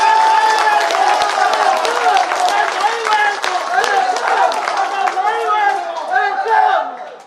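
At a BJP political gathering, a crowd claps loudly to welcome a new party member, the applause mixed with chatter and voices over it before tapering off at the end.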